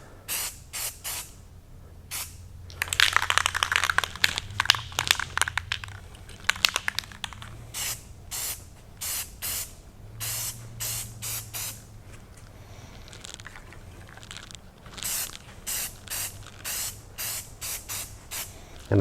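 Short hissing bursts of aerosol spray paint laid on an old bathroom towel bar in light coats, some quick puffs and some longer passes, with a low hum in the background.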